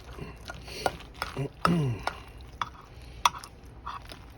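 Sauce for smoked ribs being stirred in a pot at a dumpster cookout, with scattered scraping and clanking strokes at irregular intervals, fairly quiet, under occasional talk.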